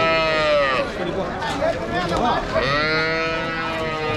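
Cattle of native breeds low and moo at a crowded rural livestock market, with loud repeated bovine calls close by under steady talk from people nearby.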